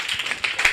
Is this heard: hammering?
no